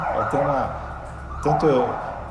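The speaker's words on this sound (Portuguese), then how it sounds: "vocês estão ouvindo até uma sirene aí" A siren wails in rising and falling sweeps nearby on a street in central São Paulo, two loud bursts with a gap between, over city street noise.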